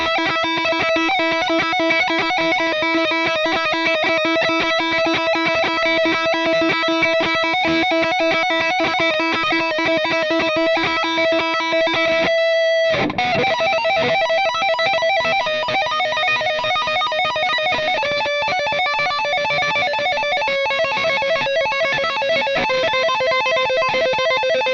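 Distorted metal lead electric guitar on the neck pickup through Bias FX 2 amp modelling, playing sustained melodic notes with a short break midway, then resuming phrases, loud and up front with no talking.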